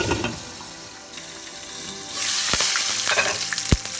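Fish fries in hot mustard oil. A low hiss rises suddenly into a loud, bright, crackling sizzle that holds steady, with a few sharp pops and spatters near the end.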